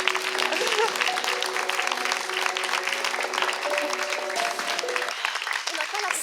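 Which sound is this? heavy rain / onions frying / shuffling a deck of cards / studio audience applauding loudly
studio audience applauding loudly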